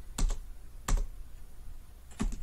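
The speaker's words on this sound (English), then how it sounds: "Now as I am typing," A computer keyboard is typed on in three short, spaced bursts of clicking keystrokes, close and fairly clear, with no talking.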